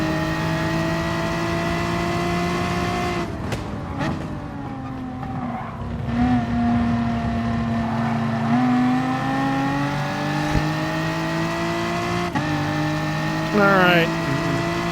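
A Group 4 BMW M4 race car in Gran Turismo Sport at Kyoto, its engine droning loud and steady with rising and falling revs through gear changes, brief tire scrubs over curbs, and someone talking over it.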